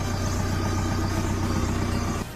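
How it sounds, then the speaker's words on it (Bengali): A used Tata Intra V30 pickup truck engine runs at a steady idle, a close, even low rumble with a regular throbbing pulse and no voices over it. "ইঞ্জিনের সাউন্ড দেখে নিন।"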